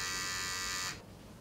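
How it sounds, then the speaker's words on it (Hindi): A Mi Beard Trimmer 1C electric beard trimmer runs with a steady, close buzzing whir, then switches off abruptly just before one second, leaving faint room noise. "जब आप ट्रिमिंग करते रहोगे नॉइज भी उतना ज़्यादा नहीं है"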